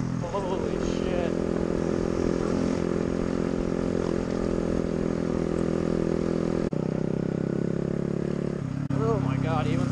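A small, low-powered motorcycle drones steadily while riding on a sand-covered dirt road, its engine note constant and close, with a brief dip near the end and voices talking over it.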